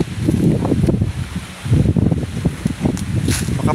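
Strong wind gusting across a high mountain top, buffeting and rumbling in uneven surges with a brief lull midway, loud and close, with rustling on top.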